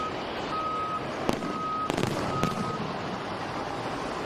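Fireworks pop several times at a truck and tractor pull in Macon, Missouri, a few sharp distant bangs over a steady outdoor rumble, with intermittent reversing-style beeps.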